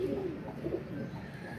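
A pigeon coos softly at close range, a low, throaty warble repeating twice over a muffled background hum.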